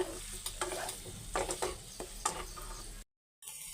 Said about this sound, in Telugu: నెయ్యి యాడ్ చేసుకొని పన్నీర్ వచ్చేసి దీనిలో యాడ్ చేసుకోవాలండి వీటిని అయితే వేయించేసుకోవాలండి